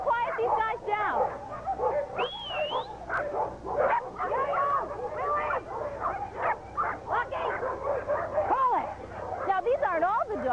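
Several dogs at a humane society shelter bark, yip and whimper continuously and close by, overlapping in a busy chorus with high whines, while people talk underneath.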